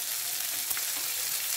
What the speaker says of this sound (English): So now I will add the little bit of oil just to fry the onion in the same pan.